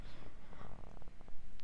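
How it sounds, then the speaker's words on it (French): A cat purring up close, a soft low rumble pulsing steadily with faint snuffly breaths over a quiet background. "il ronronne."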